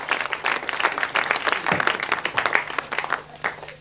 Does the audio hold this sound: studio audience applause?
yes